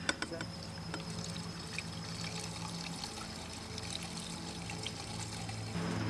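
Gasoline poured steadily into a container while making ethanol-free fuel gives a continuous faint trickling, liquid stream under low background noise.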